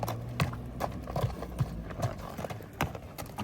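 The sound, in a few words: horse hooves clip-clopping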